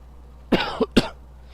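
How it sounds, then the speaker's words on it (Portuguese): Two or three quick, sharp coughs close to the microphone, with quiet room noise before and after. "Desculpa pela tosse aí porque eu tô gripado"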